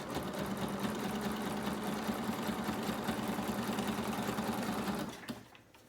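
A sewing machine stitches a fabric journal cover along a folder's edge, running in one steady, close, mechanical whir for about five seconds before stopping abruptly.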